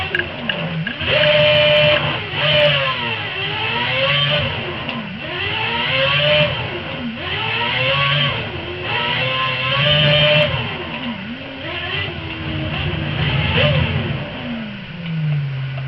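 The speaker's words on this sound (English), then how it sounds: "Series of burnouts does actually warm the tyres up." Video-game F1 2011 car on a PS3 Grand Prix setup doing a series of burnouts, the engine revving up and down in repeated loud rising and falling sweeps that fill the whole stretch.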